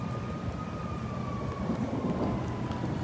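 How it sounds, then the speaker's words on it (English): Emergency vehicle siren wails faintly in the distance during a storm flood in Eastern Idaho, its tone sliding slowly downward over a steady rumble of background noise. "We hear all sorts of sirens."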